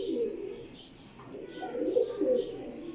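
Pigeons coo close by in a steady series of soft, throaty low calls, with faint chirps over a quiet background.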